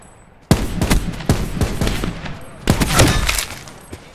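Rapid bursts of gunfire in Call of Duty Black Ops 4 Blackout, sharp close shots in quick succession, a pause, then a second burst of several shots.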